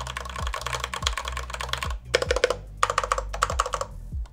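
Typing on a budget mechanical keyboard with rattly-sounding keys, close and fairly quiet, fast bursts of clacky keystrokes broken by short pauses, no talking.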